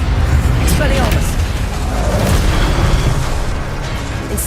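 Incendio fire spells in Hogwarts Legacy combat burst as a dense, loud run of booms and blasts, with a voice shouting spell names over the continuous clamor.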